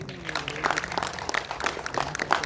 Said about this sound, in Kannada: ಒಂದು ಜೋರು ಚಪ್ಪಾಳೆ ಬರಲಿ ಇವರಿಬ್ರಿಗೂ